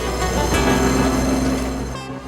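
A train in Sri Lanka rumbles past up close, a steady low roar with rattling carriages that fades slightly near the end.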